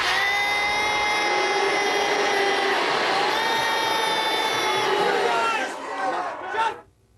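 Large arena crowd at the Billboard Music Awards booing a performer, a sustained loud roar of voices with whistles and shouting that holds steady for several seconds, then dips and abruptly cuts off near the end.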